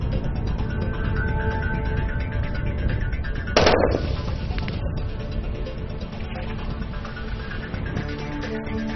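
A machine gunner fires at targets during a Beijing Military Region infantry training competition, with a single sharp crack or very short burst standing out once against steady outdoor background noise.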